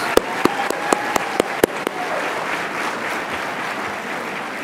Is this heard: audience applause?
yes